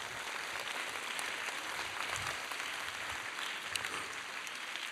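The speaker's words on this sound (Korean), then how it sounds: "박수 쳐주세요." Audience at a summer camp lecture on Korean Christian history applauding, a steady moderate round of clapping from a room of listeners, fairly distant and even throughout.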